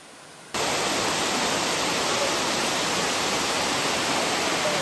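A dense roar of a waterfall's rushing water begins abruptly after a short quiet moment and then holds steady and loud to the end.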